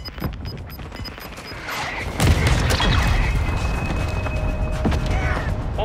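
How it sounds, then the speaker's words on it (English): Mortar strike explosions in a military first-person shooter: a loud heavy boom near the two-second mark gives way to sustained rumbling blasts and crackling debris, with scattered gunfire throughout. "Mortar strike inbound now"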